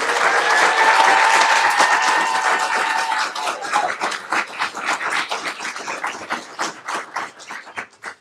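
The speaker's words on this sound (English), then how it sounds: "let's do another big round of applause for Miss Moore Sample School and Bessie Bazo" An audience at a school board meeting applauds, starting as loud, dense clapping and then thinning into scattered individual claps that fade out at the end.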